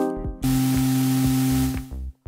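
A sustained synth chord from an Elektron Syntakt swells in with steady bright noise and held harmonic tones, while short low drum thumps keep a regular pulse underneath before cutting off at the end.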